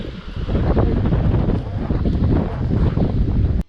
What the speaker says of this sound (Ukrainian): Дивіться, який вітруган піднявся.